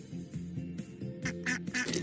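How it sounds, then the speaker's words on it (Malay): A duck gives a rapid series of nasal quacks, close and clear, in short repeated bursts with no talking over them. "Begitu juga dengan itik."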